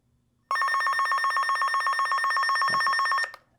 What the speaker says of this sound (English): Sounds like a loud cell phone ring.